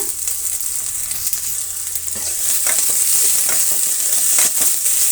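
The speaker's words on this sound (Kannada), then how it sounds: "ಅದರ ಜೊತೆಗೆ ಕರಿಬೇವಿನ ಸೊಪ್ಪು ಸ್ವಲ್ಪ ಸೇರಿಸ್ತಾ ಇದ್ದೀನಿ. ಇಷ್ಟನ್ನು ನಾವು ಫ್ರೈ ಮಾಡೋಣ." Onions and curry leaves fry in a pan with a loud, bright crackling sizzle that swells halfway through, with scraping stirs throughout and no voices.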